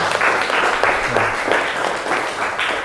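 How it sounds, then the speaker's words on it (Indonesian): A group in a classroom discussion session gives a round of applause, brisk, dense clapping from many people at moderate loudness, continuous across the short span. "Tepuk tangan semuanya"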